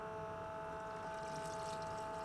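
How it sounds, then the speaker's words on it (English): A faint, steady trickle of 50-50 mixed coolant is poured into the cooling system of a V12 BMW E31 850, a soft continuous liquid sound under a low hum. "And now we can start adding coolant."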